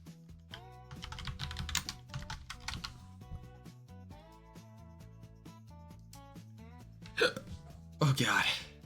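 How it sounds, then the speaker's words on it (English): Someone hiccups twice near the end, short sharp catches standing out over background music and talking. "I have the hiccups."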